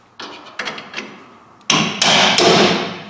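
Hammer tapping the top block down onto a broken rear leaf spring of a Chevrolet/GMC 1500 pickup: a few light, separated taps, then three louder, ringing metal strikes close by.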